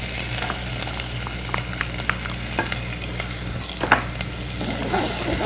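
Onion and celery sauté in oil with a little vegetable stock in a pan, giving a steady close sizzle and crackle, broken by occasional scraping clicks as the pieces are stirred.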